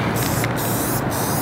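Spray paint can fitted with a Jiffy cap spraying telemagenta paint in a steady, close hiss that briefly dips twice.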